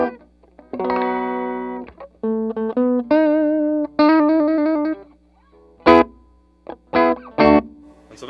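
Electric guitar notes and chords ring out through a Vox AC100 amplifier with its repaired reverb, each phrase trailing off in a wash of reverb, followed by sharp string scrapes and taps.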